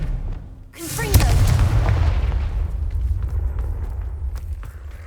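A fire-blasting spell detonates in Hogwarts Legacy: a sudden deep boom with a crackling burst, followed by a long rumbling roll that fades slowly, with faint footsteps around it.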